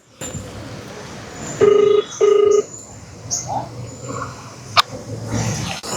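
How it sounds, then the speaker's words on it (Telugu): A phone call connecting: two clear, evenly spaced electronic ringback tones sound over faint background noise and small room sounds, with no dialing clicks distinct. "ఒకసారి టిల్లు బ్యాక్కి కాల్ అయితే చేస్తా చూద్దాం ఏమంటారు"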